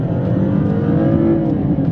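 A Toyota Mark X engine pulls hard and loud from inside the car, a sustained droning roar with a rising tone as it climbs through the revs, no voices heard.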